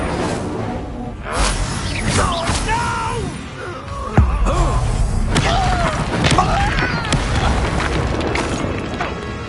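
Incendio fire spell cast in the video game Hogwarts Legacy, a booming burst with a whoosh amid busy combat effects and a sharp impact partway through, over continuous game sound.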